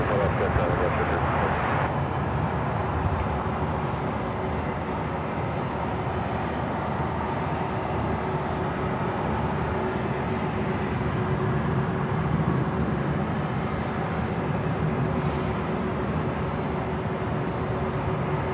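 A steady jet roar from airliners arriving and departing at LAX, constant and fairly loud throughout, with air traffic radio voices talking over it.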